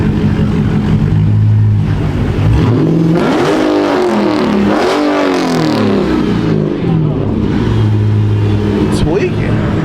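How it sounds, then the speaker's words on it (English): A loud car engine revs hard and close, its pitch rising and falling in sweeping surges over a steady idle rumble, while people talk over it. "Why your car so loud?"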